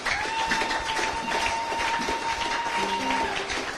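A church congregation applauding steadily throughout, a dense wash of clapping mixed with a sustained tone and brief voices near the end.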